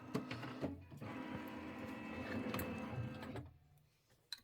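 An embroidery machine runs its calibration with a steady whirring motor hum and faint mechanical ticking for about three seconds, then falls quiet apart from a soft click near the end.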